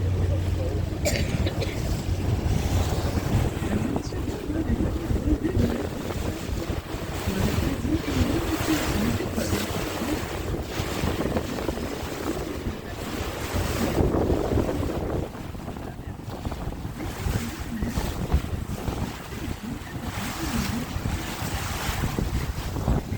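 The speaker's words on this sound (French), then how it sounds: "Oh, il y a du vent, hein." Strong wind buffets the microphone aboard a boat cruising the Seine in Paris, a continuous loud roar with gusts, water wash and faint voices beneath it.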